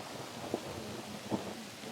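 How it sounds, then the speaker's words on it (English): Thunder rolls over a mountain campsite on the Continental Divide Trail during a rainstorm. Two soft, muffled cracks rise briefly above a steady hiss of falling rain, faint and distant. "There's some thunder cracking above us"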